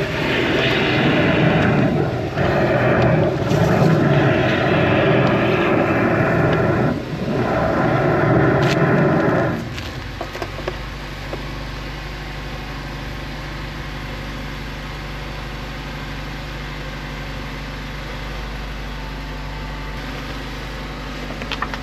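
High-pressure water jetter clearing a drain blocked by tree roots: a loud, steady motorized roar with fluctuating rushing water for about ten seconds, then a lower continuous engine drone that persists to the end.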